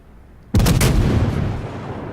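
A warship's main battery fires a single loud, heavy salvo in the World of Warships naval game, a sudden deep boom followed by a long rumbling decay that fills the rest of the moment, with no voices.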